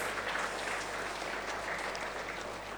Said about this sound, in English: Please give a thundering applause for yourself.